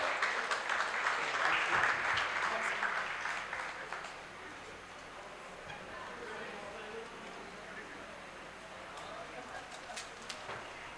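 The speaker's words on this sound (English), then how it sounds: "Can we have a huge round of applause for this gentleman here?" Audience applause fills the room at a book launch held at the Indian Institute of Management, Bangalore, loudest in the first few seconds and then thinning to a steadier, softer patter.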